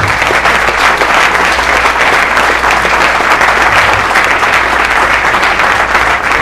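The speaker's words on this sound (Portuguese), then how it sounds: "Aplauda o Senhor, Ele merece." A church congregation claps loudly and continuously, a dense, steady wash of applause filling the space with no talk over it.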